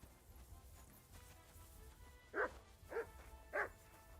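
Three barks from a dog in Kingdom Come: Deliverance 2, evenly spaced and moderately loud over a quiet ambient game background, coming as pursuit closes in.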